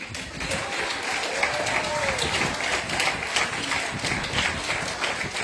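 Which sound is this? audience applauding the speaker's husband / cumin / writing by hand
audience applauding the speaker's husband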